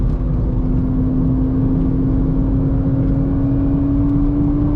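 Modified Toyota GR Supra engine droning steadily on a race track, a loud continuous in-car note holding a near-constant pitch that rises only slightly, with no talking.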